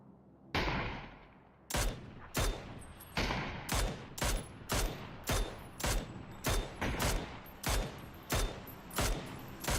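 Video game gunfire cracks out in a rapid string of loud, close shots, roughly a dozen evenly spaced bursts after a brief opening blast, with a steady noisy backdrop between them.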